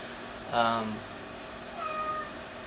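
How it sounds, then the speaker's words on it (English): Two drawn-out meows, the first louder and rising then falling, the second softer and shorter a moment later. "Meow. Meow. Meow. Meow."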